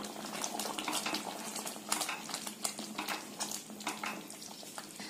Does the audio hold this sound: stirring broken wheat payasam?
yes